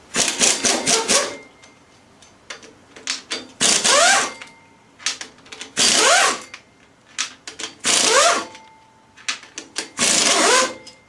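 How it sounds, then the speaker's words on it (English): Bolts being removed from the flywheel of a Ford 302 engine during a rear main seal repair: repeated bursts of a pneumatic impact wrench, rattling and rising in pitch, with short metallic clicks and clanks between them, close and loud. "So now we're going to remove our flywheel bolts."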